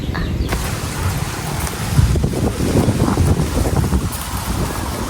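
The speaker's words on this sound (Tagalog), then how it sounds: "Tayo po ay mamamangka." A small boat moves across a fish pond with steady splashing and rushing wind noise buffeting the microphone throughout.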